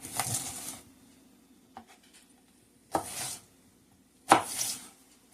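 Green chillies being finely chopped with a knife: three short, sharp bursts of close knife strikes on a board, separated by quiet pauses.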